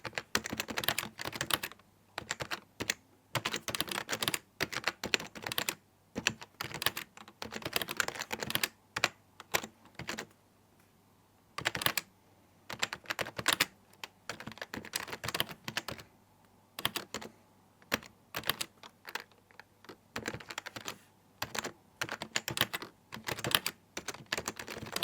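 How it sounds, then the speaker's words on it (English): Someone types on a 1996 keyboard converted to USB-C, the keystrokes clattering close up in fast bursts with short pauses between them. "I need to give you a nice little ASMR typing test"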